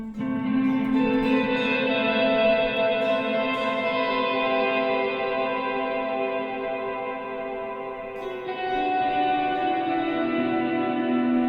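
A sustained, washy tone blooms in a vast, ambient reverb from a Strymon blueSky pedal set to a large space with long pre-delay, long tails smearing the notes together, loud and steady without any voice.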